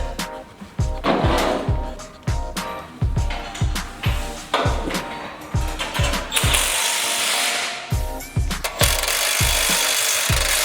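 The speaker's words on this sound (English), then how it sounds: "So I've just got a 16mm socket and a 16mm spanner. And I'm just going to go through, tighten it up." A 16mm socket and spanner tightening the bolts of a Rockarmor rock slider side step on a Mitsubishi Triton, heard as a steady run of loud, close ratchet clicks in repeated quick strokes with no talk.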